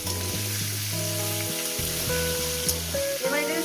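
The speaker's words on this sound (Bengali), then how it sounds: "সুন্দর করে আমি ভেজে নিই মিনিমাম আরও চার পাঁচ মিনিট" Onion and green chili frying in a pan, a loud steady sizzle running under sustained background music, with occasional stirring clinks, close and continuous.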